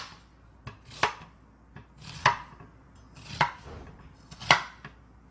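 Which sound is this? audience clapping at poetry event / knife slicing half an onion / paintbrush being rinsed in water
knife slicing half an onion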